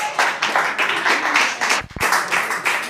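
Round of applause at a charity fundraiser evening, a small group clapping in brisk, uneven bursts that are close and lively throughout.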